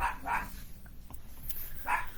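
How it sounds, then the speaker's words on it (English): A dog gives a few faint, muffled barks: two quick ones at the start, a pause with small scattered noises, then one more bark at the end. "Well, that would be my dog."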